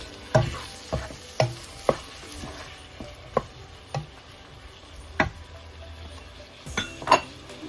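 Tomato frying in a pan is stirred with a utensil, giving sharp scraping clinks every half second or so over a soft, continuous sizzle, close up with no talking.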